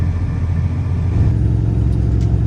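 A semi truck pulling a trailer rolls onto highway 85, its engine a loud, close, continuous low rumble with steady road noise and no voices.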